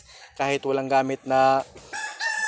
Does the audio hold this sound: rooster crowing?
yes